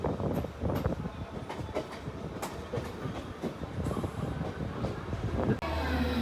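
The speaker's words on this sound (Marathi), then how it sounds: "तर आपली ट्रेन आता आलेली आहे" Deccan Express passenger train pulling into Thane station, a steady loud rumble of wagons with rhythmic clattering wheel beats and faint squeals, continuous and close throughout.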